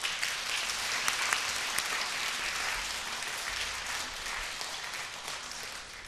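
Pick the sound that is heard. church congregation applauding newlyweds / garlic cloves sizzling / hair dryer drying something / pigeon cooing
church congregation applauding newlyweds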